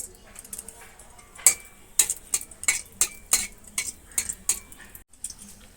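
Whole garam masala spices temper in hot mustard oil, with a faint sizzle under sharp, rhythmic clinks of a metal spoon against the pan, close by.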